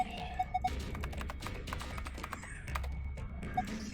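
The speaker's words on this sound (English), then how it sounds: "Nothing happened, so we tried typing on it." Quiet typing on a laptop keyboard, a scatter of light, irregular key taps over a faint background hum, with a few brief electronic beeps.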